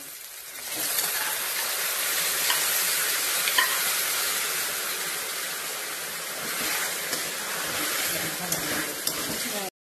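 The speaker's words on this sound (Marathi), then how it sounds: "तर इथं आपण उसळ हलवून घेतलेले" Cooked usal, a spiced sprouted-bean curry with coriander leaves, stirred in a pan, giving a steady close scraping and soft sizzle throughout with no voices.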